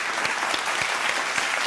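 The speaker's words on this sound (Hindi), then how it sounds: "तालियां होनी चाहिए टीम सी के लिए।" Studio audience applause on a Ramadan quiz show, honoring team C after its 80-point score; dense, steady clapping fills the short stretch at an even level.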